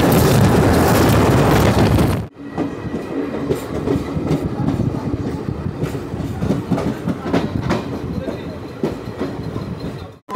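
A general-coach passenger train from Howrah rumbles loudly along the tracks near Ahmadpur Junction, cutting suddenly to a steady rattling clatter of wheels with rhythmic clicks.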